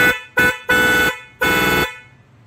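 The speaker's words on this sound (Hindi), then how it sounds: "अभी भी भाई ने हॉर्न बजाया" A Tata Punch's two-tone car horn honks four times in quick uneven bursts, a bright dual-pitched blare, loud and close, with no talking.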